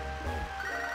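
A telephone ringtone chirps in a steady electronic ring with sustained bright tones, heard alone and fairly clear for about a second.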